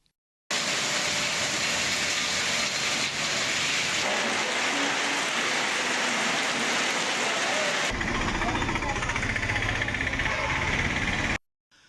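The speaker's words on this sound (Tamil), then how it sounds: "ராஜபாளையத்தில் மூன்று மாதங்களுக்கு பிறகு சுமார் ஒரு மணி நேரத்துக்கு மேலாக கனமழை கொட்டி தீர்த்தது" Heavy rain pours down in Rajapalayam, Tamil Nadu, a loud, dense, continuous roar of water that starts abruptly, shifts texture partway through as the scene changes, then cuts off.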